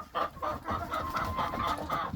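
Backyard hens cluck nearby in short, repeated bursts, a rapid run of throaty calls over faint background rustle.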